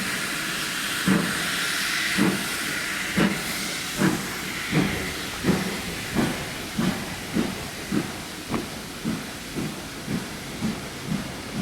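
Steam locomotive Pendennis Castle, a GWR engine at Didcot, pulls away under a steady hiss of steam while rhythmic exhaust chuffs start slowly and quicken into an even, closely spaced beat.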